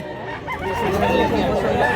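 Chickens and roosters at a market seller's stall cluck and crow in a busy jumble, near and fairly loud, while a voice talks underneath.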